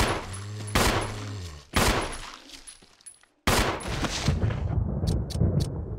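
Gunshots in the video game Resident Evil HD Remaster, three loud sharp shots spaced about a second apart, each followed by a ringing tail, then a noisy stretch of further action.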